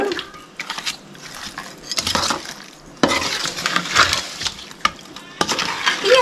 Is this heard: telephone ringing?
no